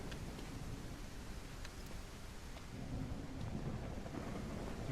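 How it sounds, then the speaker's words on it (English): Steady rain and rumbling thunder in the Quarantine Zone video game, a continuous wash of downpour with a low storm rumble that swells slightly louder toward the end, with no talking. "Okay, that was just rain."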